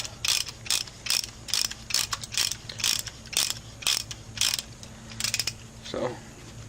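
A Cornwell ratcheting tool clicks in quick, rhythmic bursts of dry ratchet strokes during a Chevy Silverado front brake job, close and fairly loud, with brief pauses between runs.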